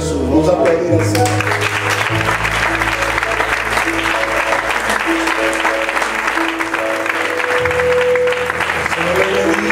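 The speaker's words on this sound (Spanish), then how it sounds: "Vamos a aplaudir al Señor." A church congregation claps together in praise during a Spanish-language worship service, steady loud applause running throughout with music and voices mixed in underneath.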